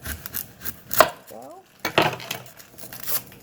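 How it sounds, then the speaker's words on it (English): Knife cutting the ends off an onion on a board in a home kitchen, a few sharp chopping knocks spaced apart near the mic, with faint background speech between them. "all I'm going to do is just cut the ends off of this real quick"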